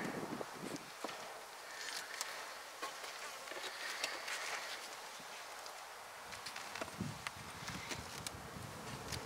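Honeybees buzz steadily around an open top bar hive during an early spring inspection, a dense close swarm drone with occasional rustles and light knocks of the frames.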